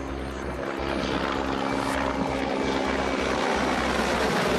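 Helicopters flying over Donetsk during the airport seizure, a loud steady rotor and engine roar that holds throughout with no voices.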